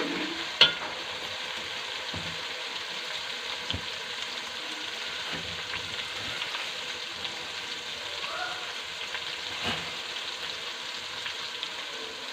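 Garlic browning in a pan for halim gives a faint, steady sizzle and crackle, with an occasional soft clink of a utensil.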